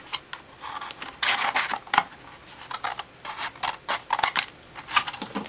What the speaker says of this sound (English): I push up on it to make sure I don't cut the back of my paper there.